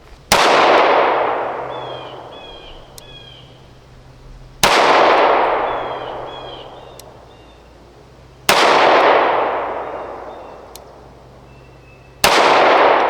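Four sharp handgun shots fired strong hand only, spaced roughly four seconds apart, each a loud near crack with a long decaying ring afterward.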